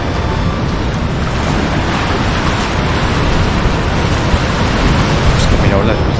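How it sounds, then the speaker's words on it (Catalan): Ocean waves surge and wash onto Bronte Beach, a loud, constant roar of surf close by, mixed with gusts of wind buffeting the microphone. "A veure si puc ficar-me abans que vinguin onades grans"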